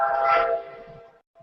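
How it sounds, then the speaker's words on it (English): A nearby train sounds a brief horn blast, a bright tonal blare that swells and then fades within about a second, with a short faint tail after a gap. "There's a train nearby."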